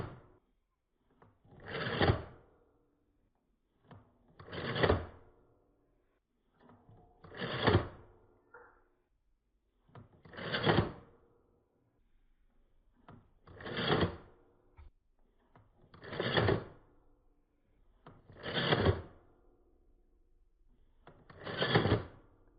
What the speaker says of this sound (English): I'll show you how the focal plane shutter works.